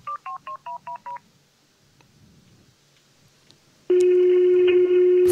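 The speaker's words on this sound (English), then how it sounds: "What type of phone dial is that?" A telephone keypad in the horror game Greyhill Incident beeps out six quick dialing tones, then after a short pause a loud steady ringback or line tone starts and holds to the end.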